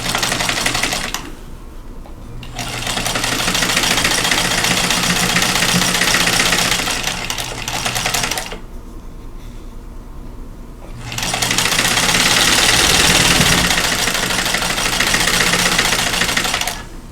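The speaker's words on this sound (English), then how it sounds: "I'm going to sew these 2 rows together." A sewing machine stitches two rows of quilting fabric together, running loud and steady in three long stretches with brief near-silent pauses between them.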